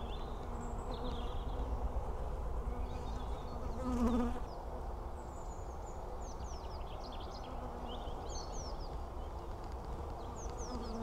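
Honey bees buzz steadily around an open hive during a beekeeper's inspection of brood frames, a dense close drone with individual bees zipping past and a bird calling faintly in the background.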